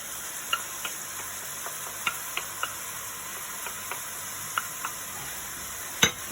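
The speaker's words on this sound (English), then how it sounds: "Get them all stirred in." Tinned tomatoes and tomato paste stirred into a pan for moussaka, a soft constant sizzle broken by about a dozen scattered light scrapes and taps of a utensil, one louder knock near the end.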